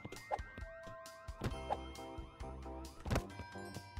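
A store alarm siren blares in the game Christmas Shopper Simulator, a loud electronic wailing tone with sustained pitched layers and rhythmic pulses repeating about every second and a half.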